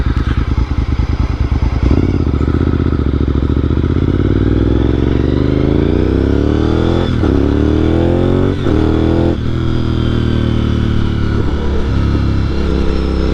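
A Honda RC51 sport motorcycle engine runs loud and close, holding a steady rumble with a few sharp throttle blips and revs rising and falling.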